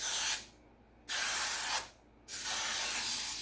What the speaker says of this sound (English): I'm going to spray this 9x13 dish